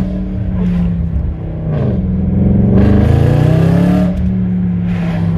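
An Audi RS4 with a twin-turbo engine pulls hard through the gears on a road test, a loud, close engine note rising and dropping with each shift, no talking over it.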